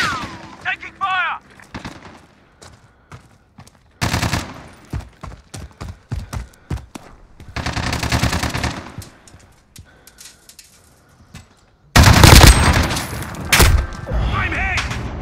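Gunfire in Call of Duty Modern Warfare multiplayer: sharp bursts of rapid automatic shots and single cracks in uneven clusters, with a loud heavy barrage near the end, mixed with game voice callouts.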